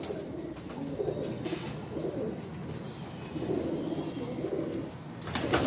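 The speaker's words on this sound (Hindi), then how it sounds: "ये लाखे गोल्डन कबूतर है, चेक करें जरा।" Lakha golden pigeons cooing in low, throaty rolls, several birds close together in repeated soft bursts, with a brief flutter near the end.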